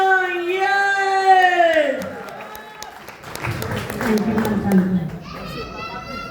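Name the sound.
audience applause welcoming speaker at seminar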